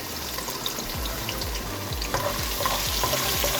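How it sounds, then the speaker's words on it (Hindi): Garlic sautéing in a pan, a steady soft sizzle of frying with intermittent scraping stirs and light clinks, close and moderately quiet, no voices over it. "लहसुन थोड़ा सा सौते होगा"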